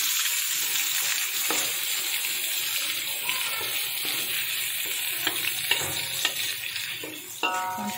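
Onion and ginger sizzle steadily while being sautéed in a pan, with a continuous bright frying hiss and a few clinks of stirring, close up.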